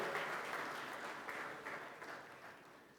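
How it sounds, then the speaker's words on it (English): Brief, fairly faint audience applause at a regional tech meet, a soft patter of clapping that gradually dies down. "A big round of applause for him, please."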